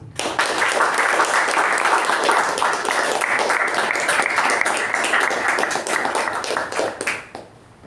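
Audience applause at a Toastmasters club meeting welcoming the club president, brisk clapping sustained for several seconds before tapering off near the end.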